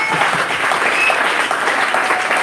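A church congregation applauds to acclaim the Lord, a dense, steady wash of clapping from many hands filling the room for the whole stretch.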